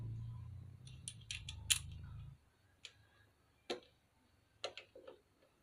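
Several sharp metallic clicks from a torque wrench, spaced irregularly after a low mechanical hum fades, close and fairly quiet.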